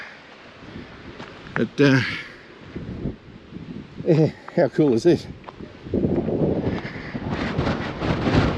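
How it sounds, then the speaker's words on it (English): Gusty wind buffets the microphone on an exposed ridge-top track in the Brindabella Ranges, low rumbling gusts rising and falling, strongest toward the end, while someone talks over it close by. "A, it's windy as"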